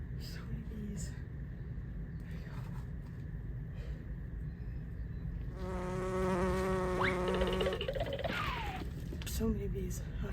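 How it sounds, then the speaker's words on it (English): Wasps and yellow jackets buzz around at close range, a droning hum that swells and shifts pitch as they fly past, over a steady outdoor background. "So many bees out here. It's like yellow jackets and wasps."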